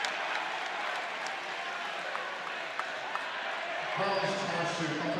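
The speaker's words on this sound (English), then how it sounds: "The home crowd gives him a hand." Home crowd at a high school basketball game applauding an injured player, steady sustained clapping filling the gym, with a commentator talking over it throughout.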